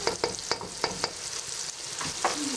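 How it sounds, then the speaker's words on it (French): Spices and a spoonful of double-concentrate tomato paste being stirred in a pan over medium heat for a leek veggie mix, with sharp spoon scrapes and light taps over a steady sizzle, close and fairly loud. "Vous mélangez le tout."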